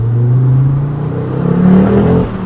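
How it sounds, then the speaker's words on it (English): Ford Focus RS five-cylinder engine revving up close and loud, a steady rising drone that climbs in pitch through the rev with a slight dip near the end. "Oh, listen to that 5-pot."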